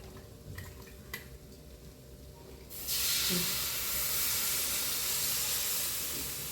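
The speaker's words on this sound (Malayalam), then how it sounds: "ഇതിനകത്തേക്ക് പുളിവെള്ളം ഒഴിക്കാൻ പോവാ" After some quiet clatter, a loud hissing sizzle erupts as tamarind water is poured into a hot pan and continues steadily.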